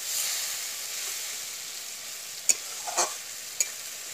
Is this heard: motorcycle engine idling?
no